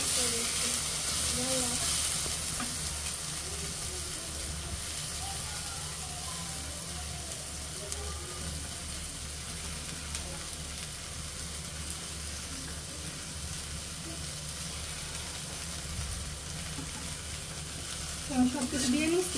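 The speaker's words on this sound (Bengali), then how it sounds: "একটু আলুগুলো হালকা একটু ভেজে তারপরে পেঁয়াজ দিয়ে দেব" Potatoes frying in a pan while being stirred, a steady broad sizzle with occasional scraping, and some voice-like sounds or background murmur under it.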